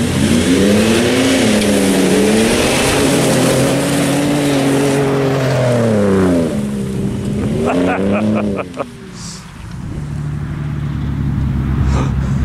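Two Ford Raptor pickup trucks rev and accelerate hard side by side in a drag race, loud engine roar climbing through gears and then easing off, with wind noise and a few voices underneath.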